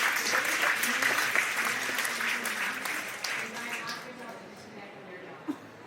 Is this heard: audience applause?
yes